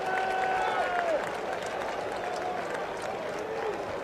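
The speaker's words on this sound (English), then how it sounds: "he gets a well-deserved round of applause for his gutsy playing on a bad leg" A World Series stadium crowd at a Red Sox–Mets game gives a sustained round of applause as an injured Bill Buckner leaves the field, a broad distant roar of clapping under intermittent announcer talk.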